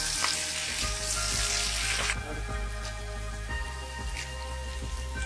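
Paneer fries in a pan over a medium flame with a loud, continuous close sizzle, while a utensil stirs it in a few soft scraping strokes.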